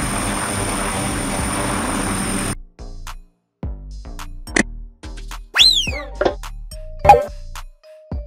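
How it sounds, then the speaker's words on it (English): An aerial survey helicopter's steady, loud rotor roar fills the first couple of seconds, then cuts off abruptly into scattered knocks and a rising whistle. "Aerial survey helicopter."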